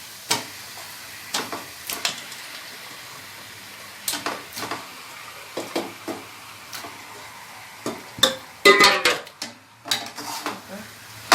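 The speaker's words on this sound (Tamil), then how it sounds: "இப்போ இந்த சிக்கனை இதோட சேர்க்கிறேன்" Chicken pieces added to a pan of sautéed ginger-garlic masala for Tamil chicken kulambu: scattered clinks and scrapes of a utensil against the pan with soft sizzling between, close and intermittent.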